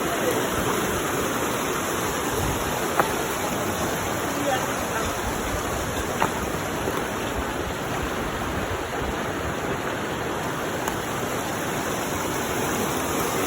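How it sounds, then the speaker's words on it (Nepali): Stream water rushes steadily past a volunteer work site in a senior citizens' recreation park in Dharan, Nepal: an unbroken, close, broadband wash with a few faint knocks and no clear voices. "र पानी यसरी बगिरहेछ"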